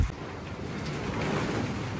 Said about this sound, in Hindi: और बारिश होने लगी साथ ही। देखें जी बारिश